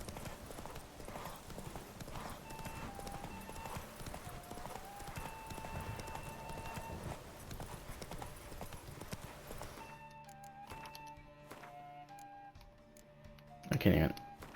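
Hooves of Roach, the horse in Witcher 3, clip-clop in a steady walking rhythm over game music for most of the stretch, then the music drops away, leaving clearer hoofbeats and a brief louder burst near the end.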